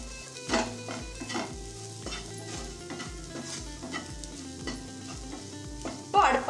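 Sweet corn frying and being stirred in a pan for masala corn chaat, a steady sizzle broken by regular scraping strokes of a spoon, with a louder clatter near the end.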